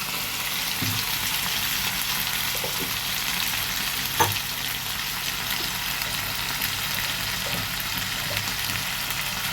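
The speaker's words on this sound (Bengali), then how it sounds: "টমেটো পেস্ট করে রেখেছি সেইটা এবার আমি তেলের মধ্যে দিয়ে দেব।" Tomato paste sizzling in hot oil for ghugni, a steady, even frying hiss that runs throughout, close by, with a few faint clinks of a utensil and no talk.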